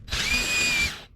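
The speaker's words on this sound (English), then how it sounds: "After I drill these holes, I'll take this backing plate off and then drill them to the proper size." A power drill with a 13/64 bit drills holes through a backing plate for a kayak anchor trolley, giving one close, steady, high whine for about a second that spins up and winds down.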